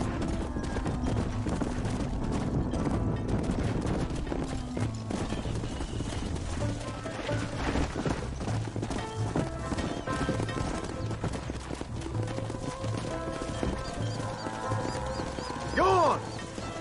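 Many horse hooves pound in a continuous rumble as the herd runs in the video game Red Dead Redemption, with voices talking over it and a horse whinnying briefly near the end.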